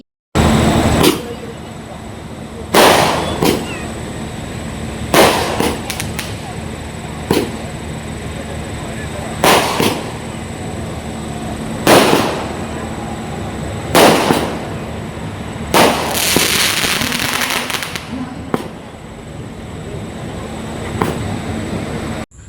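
Repeated sharp firework blasts at a Ganesh festival celebration in heavy rain, about ten over twenty seconds at irregular intervals, loud and crackling, with a steady background hum between them.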